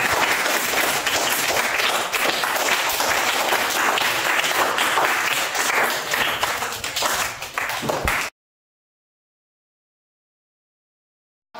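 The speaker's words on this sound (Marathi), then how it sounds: "एकदा शिवमसाठी सर्वांनी जोरात टाळ्या वाजवाव्या" A classroom of students at Z. P. P. S. Shirasgaon applauds the winning student Shivam after a school addition game. Dense, loud clapping runs steadily for about eight seconds, then stops abruptly into silence.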